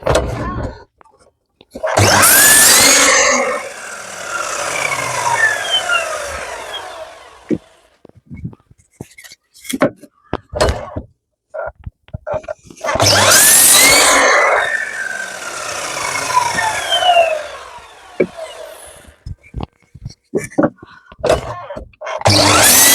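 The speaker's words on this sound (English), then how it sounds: "just put a 45-degree chamfer on each of them" A power tool cuts 45-degree chamfers on the ends of wooden pieces for a simple bird table, in two loud, sustained bursts of several seconds each, separated by clattering knocks and handling noises.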